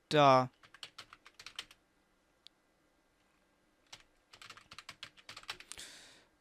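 Keys clacking on a computer keyboard in short bursts of quick taps, close and crisp, separated by a long pause, with a brief burst of other sound at the very start.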